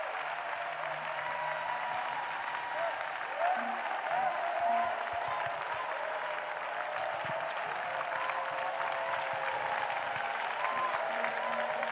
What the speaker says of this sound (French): Now, clap for Jesus.